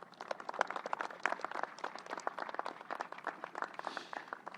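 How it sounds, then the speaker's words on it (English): Scattered audience applause at an outdoor groundbreaking ceremony, a dense, moderately distant patter of many hands clapping steadily throughout with no voices over it. "Let's give another round of applause to the women and men of organized labor"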